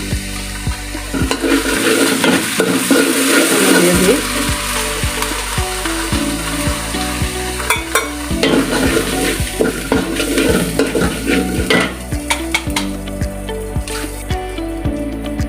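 Panch phoron spices fry in hot oil in a pan and are stirred, giving a loud, continuous sizzle with repeated clinks and scrapes of the spatula throughout.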